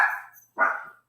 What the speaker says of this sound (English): We live in a house with dogs, and dogs are doing what dogs do. They bark.